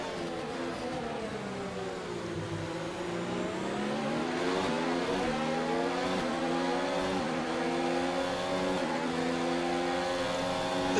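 High-pitched F1 2019 racing car engines whine steadily in the video game, pitch sweeping down then climbing again through gear changes, with several cars layered close together and no talk.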